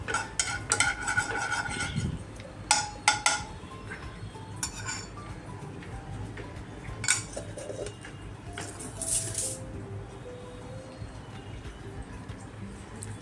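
A spoon spreads ghee around a hot frying pan, giving scattered metallic clinks and scrapes at close range over a quiet room background, with faint bird calls in the distance.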